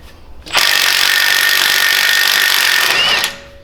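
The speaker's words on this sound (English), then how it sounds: "Now I'm losing a lot of power in this impact by using an adapter to the socket." A single sustained burst of an impact wrench driven through a socket adapter, removing the CV axle nut on a 2011-2016 Ford Explorer during a leveling kit install: loud, close and steady for nearly three seconds, then stopping.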